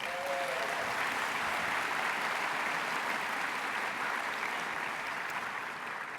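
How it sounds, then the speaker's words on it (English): A large conference audience at an opening ceremony keeps up sustained, even applause, a broad wash of clapping that stays constant throughout and eases only slightly near the end. "Feel free to applaud."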